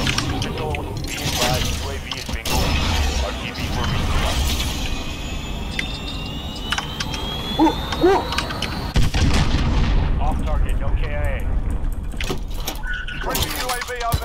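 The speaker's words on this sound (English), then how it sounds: "I'm running out of bullets." Gunfire crackles through Call of Duty: Modern Warfare game audio as repeated sharp bursts and booms, loud and close, mixed with explosions and mechanical noise, while players talk over it.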